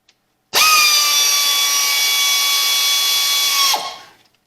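Air tool fastening transmission pan bolts on a Chevrolet Turbo 350 gives one loud, high-pitched continuous whine for about three seconds, starting abruptly and winding down at the end.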